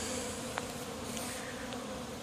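Continuous low buzzing of honey bees around a hive's bee escape after robbing, a steady drone with a few brief closer passes standing out.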